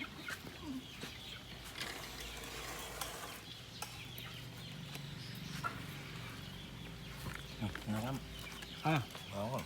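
Chickens cluck and squawk in short bursts amid farmyard noise, with a voice talking nearby throughout.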